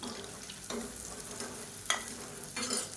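Chopped onions fry in hot oil in a pan for a home-style lentil curry, with a soft, steady sizzle broken by a few brief scraping bursts as a spoon stirs them up close.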